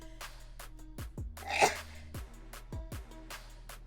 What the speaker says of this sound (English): That was like a half sneeze.